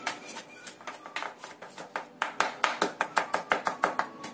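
A knife chopping garlic on a cutting board, a steady run of crisp knocks that start sparse and quicken into an even, rapid rhythm, close and clear with no talk.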